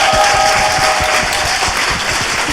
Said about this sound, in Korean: 누가 먼저 얘기하셨는지 박수 한번 부탁드립니다.